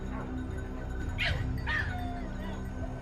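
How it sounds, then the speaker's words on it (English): Two sharp yips or barks from hunting dogs closing on a wild boar, one after another, fairly close, over a low steady background hum. "The barking grew louder."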